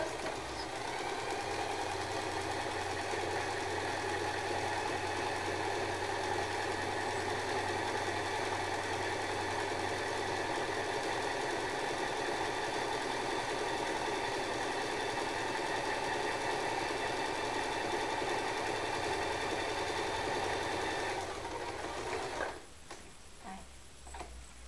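A sewing machine runs steadily for over twenty seconds, stitching the seams of a fabric water jug cover with a continuous mechanical whir that cuts off near the end, leaving a few faint clicks.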